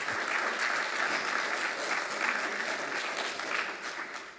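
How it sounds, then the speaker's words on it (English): An audience applauds during a speech, a dense, steady clapping from a crowd that holds for several seconds and only slightly eases toward the end, with no voices over it. "Now that I've got some applause"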